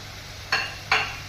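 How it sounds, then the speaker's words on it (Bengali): Spice paste of cumin and coriander being sautéed in a pan, heard as a steady close sizzle with two short bursts of scraping from stirring. "এটা আমি ভালো করে কষিয়ে নেব। মশলাটা অনেকটাই কষা হয়ে এসছে।"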